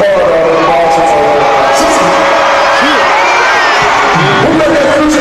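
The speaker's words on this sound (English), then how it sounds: "This is like the loudest motherfucking crowd I've ever been a part of in Baltimore." A loud concert crowd in Baltimore cheers and whoops without letup, a dense roar of many voices with shouts rising through it.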